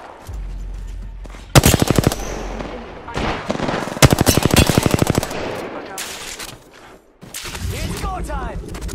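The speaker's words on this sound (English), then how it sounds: "They're shooting at me." Automatic weapon fire in the video game Apex Legends comes in several loud rapid bursts, separated by quieter stretches of game sound and a speaking voice.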